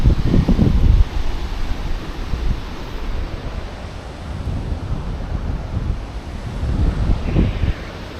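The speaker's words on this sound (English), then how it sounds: "There we have a river with some cool falls." Rushing water from a river's falls beneath a working canal aqueduct, a steady broadband roar with gusts of wind buffeting the microphone, louder at the start and end.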